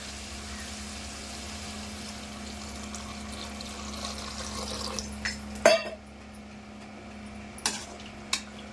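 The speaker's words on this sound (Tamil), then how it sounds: "சிக்கன் முங்குற அளவுக்கு தண்ணி ஊற்றியாச்சு" Water is poured into a cooking pot of chicken over a steady low hum, followed by a few clattering knocks of the pot and utensils.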